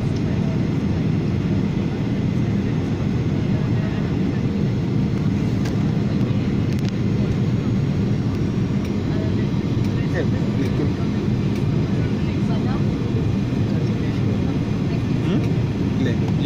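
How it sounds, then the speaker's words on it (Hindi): Airplane landing at Srinagar airport, a steady broad low roar of engine and rolling noise filling the whole stretch, with a voice speaking over it. "लैंड कर रहे हैं बंदे नीचे आकर धीरे धीरे।"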